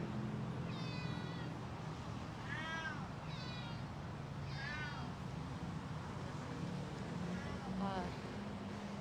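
Several cats, Thai and long-haired Persian, meow repeatedly at an animal hospital recovery ward, the calls rising and falling over a steady background hum and clatter, with a faint voice now and then.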